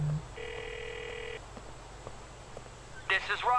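Phone dialing in GTA: The Ballad of Gay Tony, a steady electronic tone lasting about a second, followed by quiet low background hum and a brief burst of voice near the end.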